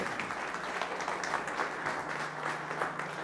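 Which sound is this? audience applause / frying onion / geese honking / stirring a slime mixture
audience applause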